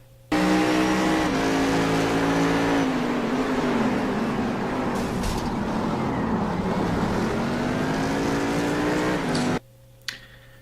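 Race cars roar past on a track, a loud continuous engine drone with shifting pitch as several cars pass close by, dense and sustained before cutting off abruptly near the end.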